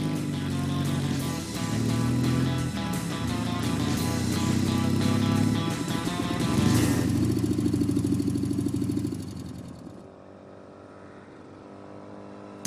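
A restored DKW motorcycle, a common mass-produced model rather than a sports bike, runs with a steady mid-pitched engine drone that swells slightly, then drops away toward a quieter idle near the end.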